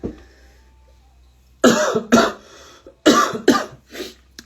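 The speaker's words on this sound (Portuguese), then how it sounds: "Essa tosse vai passar em nome de Jesus." Several sharp, loud coughs in quick bursts after a quiet start, close to the listener, with brief pauses between fits.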